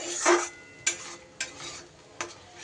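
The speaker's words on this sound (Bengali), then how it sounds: "এটা দিয়েও খুব ভালো করে আমি আবারও কষিয়ে নেব" A spoon stirs masala with rice and melon-seed paste in a pan over low gas, giving a few scraping strokes over a soft, close sizzle.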